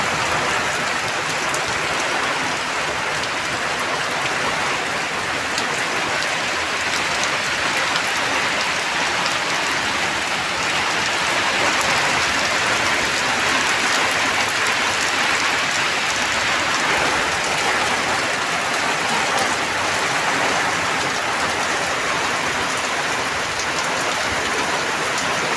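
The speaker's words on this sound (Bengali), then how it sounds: "দেখো কেমন হারে বৃষ্টি হচ্ছে এখানে।" Heavy rain pours down steadily over a paved road where water is pooling, a dense continuous hiss of drops with no pauses and no voices.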